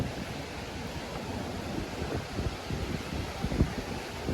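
Wind blows steadily outdoors beside a chicken coop in autumn, a broad rushing roar with gusts swelling and easing, fairly close to the microphone and with no other clear sounds.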